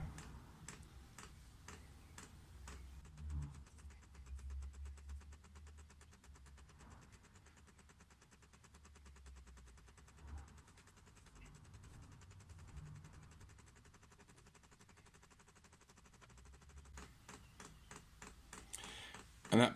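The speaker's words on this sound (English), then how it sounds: "that pump is now pretty much full speed doing its priming" A diesel heater's fuel pump ticks steadily as it primes, a fast even clicking that speeds up, faint and close, with someone speaking quietly over it.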